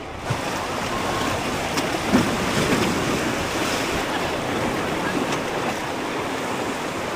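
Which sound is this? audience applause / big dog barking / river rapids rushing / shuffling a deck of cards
river rapids rushing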